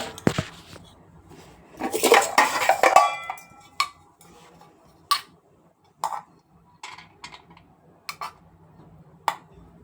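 A plate and spoon are handled at home, a cluster of clattering ceramic and metal knocks, then a series of sharp, separate clinks spaced a second or so apart, close by with no talking.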